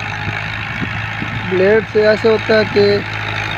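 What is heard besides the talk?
tractor engine idling while loading soil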